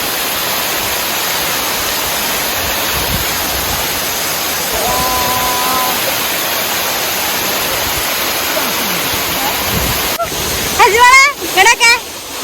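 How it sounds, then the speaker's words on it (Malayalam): A waterfall roars steadily as a broad, continuous rush of falling water, loud and close throughout, with a few brief voices and sharper calls breaking in near the end. "ഇതാണ് വെള്ളച്ചാട്ടം അടിപൊളി അല്ലേ"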